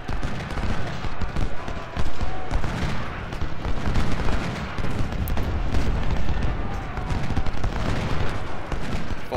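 Cannon canister shots and rifle gunfire from a Civil War battle at Seven Pines in a strategy game, a dense, continuous barrage of booms and crackling volleys with faint voices underneath.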